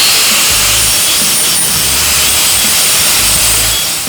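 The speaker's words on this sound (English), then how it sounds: "Then a little bit of final grinding." An angle grinder grinds thin metal tubing on a roof rack, giving a loud, steady high-pitched whine with a low rumble that surges and eases as the disc moves along the metal.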